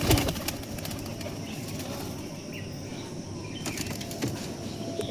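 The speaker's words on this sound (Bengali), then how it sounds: "দেখতে পাচ্ছেন 6টা বাচ্চা উড়ে গেছে এই টাইমে।" Six young pigeons taking flight for the first time, a burst of wing flapping at the start fading into soft fluttering and light bird calls over a steady outdoor background, with a few more flaps near the end.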